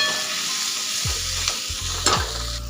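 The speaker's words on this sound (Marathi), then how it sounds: "आता हे छान व्यवस्थित मिक्स करून घेऊया।" Spiced eggplant masala frying in a pan with garam masala and salt, a loud steady sizzle broken by several sharp scraping stirs of a spoon against the pan.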